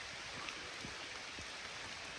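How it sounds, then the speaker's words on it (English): Steady rain patters on leaves and ground around a tree sheltering hunters on an archery elk hunt in Utah, a faint, continuous hiss with no talk. "Hopefully this rain will let off a little."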